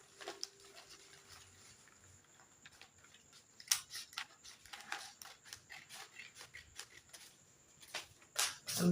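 Scissors cut out fabric corset cups in a series of soft, close snips and rustles. The clip starts quiet and grows busier from about the midpoint.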